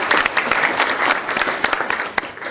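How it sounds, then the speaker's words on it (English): Audience applause fills a breakfast hall at a school foundation's superintendent's event, a steady wash of many hands clapping at close range with no one speaking over it. "So let's give her a round of applause."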